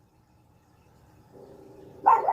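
A dog barking at something outside a window gives a single short, loud bark at the very end after a near-silent, faintly humming room.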